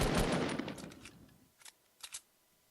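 Gunfire in Fortnite Battle Royale opens with a loud burst of rapid shots that trails off into an echoing tail, followed by two sharp single shots at quieter volume.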